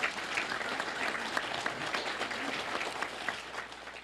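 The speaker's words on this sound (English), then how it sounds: "Let's have a round of applause for them." Audience applause at a community autism awareness roundtable: steady, dense clapping from a room of people lasting several seconds, moderately loud and close, with no talk over it.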